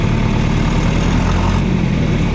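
A John Deere 3020 tractor engine runs with a loud, steady low rumble and even throbbing pulse, close up and unbroken, with no voices.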